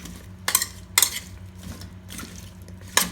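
Aviyal, a Kerala mixed-vegetable dish, being stirred in a pot, with a few sharp scraping clinks of a spoon against the metal at irregular intervals over a low background hum, no talking.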